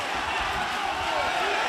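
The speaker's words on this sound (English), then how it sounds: "And listen to this crowd." Loud, dense roar of an MMA fight crowd cheering, a continuous wash of voices filling the whole moment with no break.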